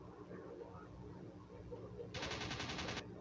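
Aircraft machine guns firing during a dogfight video game, a dense rattling burst of gunfire about a second long sitting over a steady engine drone, with faint game sounds before it.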